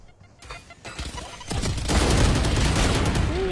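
Grenade blasts and rapid gunfire from a first-person shooter video game, dense bursts of shots that build to a loud, sustained barrage in the second half, with no one talking over it.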